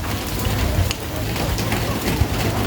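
Steady rain patters on a surface, a dense even hiss with low rumbling underneath throughout, no pauses.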